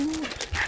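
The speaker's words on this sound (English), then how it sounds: "she's a puppy, Frank" A puppy at an outdoor nomad gathering gives a brief, close, high-pitched whimper followed by soft yips.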